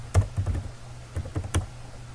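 Computer keyboard keys tapped in short irregular bursts while writing in Notepad, close and fairly quiet, with brief pauses between clusters of keystrokes.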